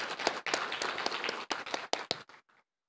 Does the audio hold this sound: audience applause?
yes